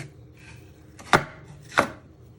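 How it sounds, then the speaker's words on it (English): A knife chops through celery on a cutting board in two sharp, loud strikes about half a second apart, with quiet kitchen room tone between them. "You want to chop it down the middle."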